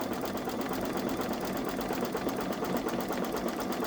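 Babylock Solaris 3 embroidery machine stitching steadily, a fast continuous rhythmic needle hum at moderate level, alone with no talking.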